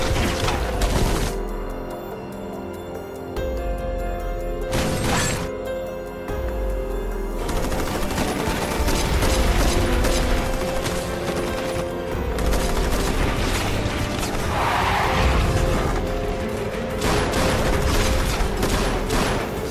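Gunfire rattles through a kung fu film fight scene, sustained bursts of automatic fire and scattered shots, loud and dense over a busy, chaotic background.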